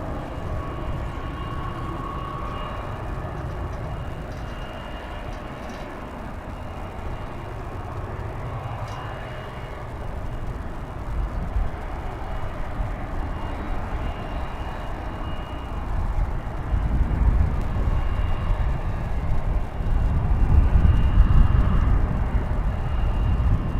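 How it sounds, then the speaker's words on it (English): A Polar Air DHL Boeing 767 jet arrives at DFW airport, its steady roar of engine noise swelling slowly toward the end as the aircraft draws nearer, with no one speaking. "Got a Polar Air DHL 767 coming in from Cincinnati."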